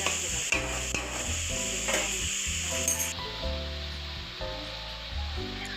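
Onions frying in a pan for vegetarian tadka dal, with a steady loud sizzle that runs throughout and is joined by occasional clinks and stirring knocks.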